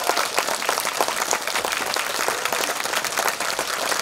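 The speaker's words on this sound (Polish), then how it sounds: "No to jeszcze raz ogromne brawa dla wszystkich" Loud, dense applause from an audience at a school year-end music event, sustained crowd clapping close up with no break for the full stretch.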